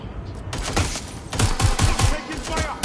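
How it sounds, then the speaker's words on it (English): Rapid bursts of gunfire from the Watch Dogs Legion video game, a loud run of sharp shots with short gaps, blended with other game sounds and voices. "Taking fire!"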